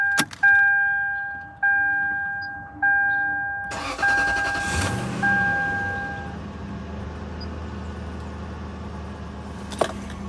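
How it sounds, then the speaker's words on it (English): A Lexus LS400 sedan is started from cold on a cool morning: several short starter-motor cranks in a row, then the engine catches and settles into a steady, fairly loud idle, with a brief clack near the end and no voices. "Cold start."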